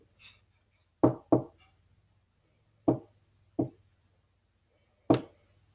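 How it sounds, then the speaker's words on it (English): Five sharp, hollow knocks on a wall, close and loud. A quick double knock comes first, then another pair and a single final knock, with quiet gaps between them. "I'm going to do some knocking."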